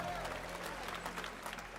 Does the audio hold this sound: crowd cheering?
yes